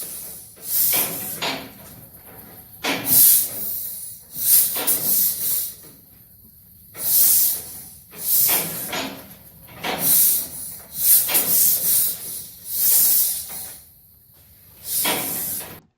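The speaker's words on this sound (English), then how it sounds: "you can hear the sound of that's coming out the top valve. Compression is the beast." Sharp bursts of compression hissing escape rhythmically from the top valve of a 1938 John Deere G tractor engine, about a dozen puffs with short quiet gaps, close and fairly loud.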